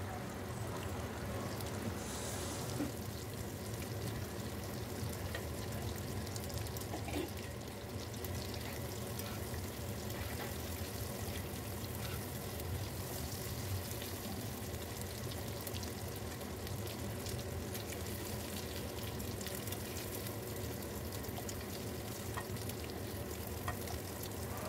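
Paneer frying in mustard oil in a kadai, a continuous dense sizzle and crackle with occasional stirring, steady and close throughout.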